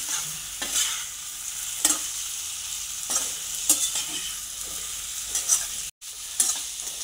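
Mutton kheema balls fry in oil with a steady close sizzle punctuated by repeated scraping stirs of a spoon against the pan, briefly cut once, with no speech.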